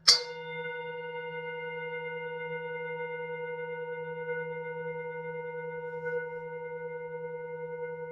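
A singing bowl is struck once, then rings with a pure, steady humming tone that sustains evenly for several seconds.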